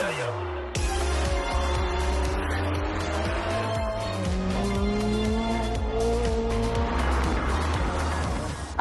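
Cars launch and race down a drag strip at the ICAR motorsport complex, engines roaring and shifting up through the gears with tires squealing. The sound is loud and continuous, close by, and nobody speaks.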